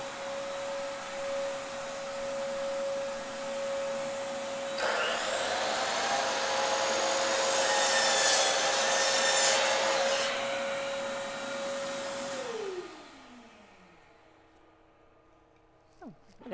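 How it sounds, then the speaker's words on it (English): A household vacuum cleaner runs with a steady, loud motor drone and airy rushing that swells as it works close by, then winds down with a falling whine until the room goes nearly quiet. "So I have a vacuum cleaner I'm going to turn on real quick here."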